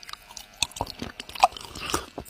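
Someone eats a small Chips Ahoy chocolate chip cookie close up, with crisp crunching bites and chewing in quick irregular bursts and no talking.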